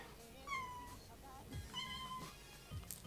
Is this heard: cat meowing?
yes